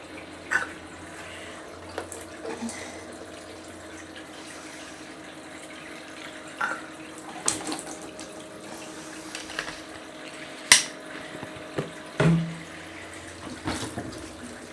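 Water from a tap running into a sink to soak wool fleece, a steady low stream with occasional clunks and splashes of handling, fairly quiet and close, no talk.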